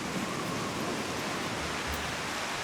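Steady, dense rain in the video game Final Fantasy XIV hisses evenly and continuously, a broad wash of falling water with no voices over it.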